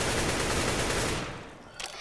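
An AK-47 fires a sustained burst in the video game CS:GO, loud, rapid and continuous, then fades out, followed by one short shot at the end.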